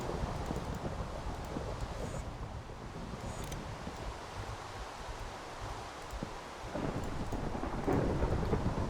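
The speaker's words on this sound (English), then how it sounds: "Scary thunder." Rain pours steadily in a Minecraft thunderstorm, with deep rolling thunder rising and fading and a louder rumble building near the end.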